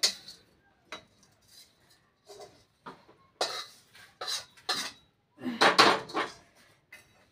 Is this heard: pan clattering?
yes